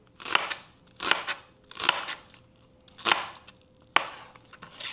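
A knife cuts lengthwise through half a red onion on a board, five sharp crunching slices spaced about a second apart, close and crisp against a quiet kitchen.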